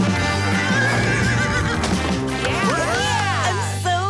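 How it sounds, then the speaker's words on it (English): A horse gives a long, rising-and-falling whinny over light clip-clop hoofbeats and backing music; the neigh is loud and close in the second half. "H for horse."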